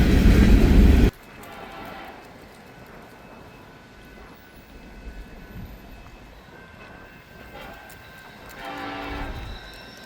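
A freight train heading eastbound near the CSX interchange at Terre Haute, Indiana opens with a loud, close blast, then settles into a steady low rumble of rolling railcars that swells again near the end.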